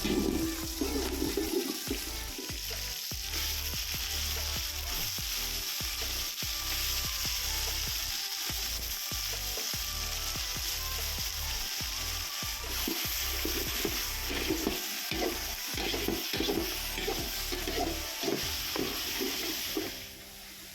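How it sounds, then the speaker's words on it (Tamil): Loud, steady sizzling of mutton pieces frying in hot oil, with scraping stirs and clinks throughout. "மட்டன் பீசஸ் ஆட் பண்ணி வணக்கிக்கலாம்"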